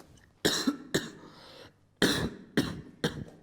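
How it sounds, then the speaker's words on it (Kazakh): Several sharp coughs in two bursts, close and fairly loud, with a short pause between groups. "Менде жөтел қысып."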